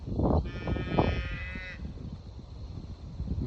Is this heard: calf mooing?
yes